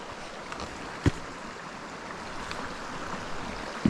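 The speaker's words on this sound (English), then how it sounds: "It's nice to hear the river." A river flowing steadily in the background, a soft continuous wash of water with a couple of faint knocks and no talking.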